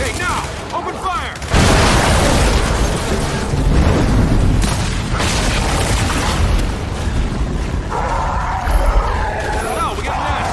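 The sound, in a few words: gunfire and explosions in Xbox Series X video game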